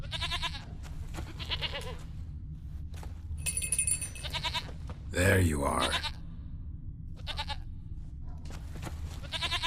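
A goat bleats in The Witcher 3 video game, several short nasal bleats spread through the scene, with someone speaking briefly and a louder rustling burst in the middle.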